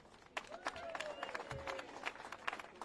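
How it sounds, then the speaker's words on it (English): Party guests at an 80th birthday party for Henry Winkler applaud, scattered, fairly faint clapping with audible individual claps under chatter and a sustained tone. "Lastly, give yourselves a round of applause."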